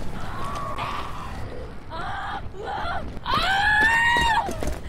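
A Screamer zombie in Dead Island: Riptide lets out a rising, wavering shriek that swells loud near the end, with earlier shorter cries and someone talking over the noise.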